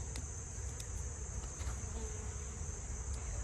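Honeybees hum around beehive nucs with a queen failure, a faint, steady buzz with a few brief passing flights over a continuous outdoor background.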